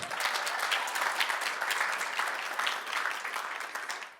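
Audience applause for former writers-in-residence at a Simon Fraser University English department anniversary event, steady and dense throughout without speech.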